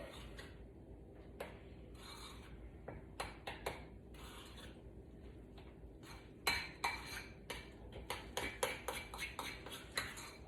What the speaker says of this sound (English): Then we're going to give this a nice stir in.